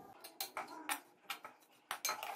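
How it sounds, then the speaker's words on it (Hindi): A metal spoon stirs bread pieces roasting in a pan on a stove, making quick, close scraping clinks in irregular bursts, several per second, against a quiet background. "मैं चम्मच मुसलसल इसलिए इसमें हिला रही हूं ताकि अच्छे से कलर आए इक्वली।"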